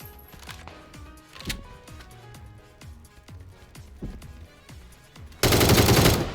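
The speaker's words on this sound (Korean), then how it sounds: "또 멀리서 또 쏜다" Video game gunfire from a Korean duo shooter match: a run of sharp, evenly spaced shots, near and fairly loud, ending in a sudden burst of dense, noisy blast.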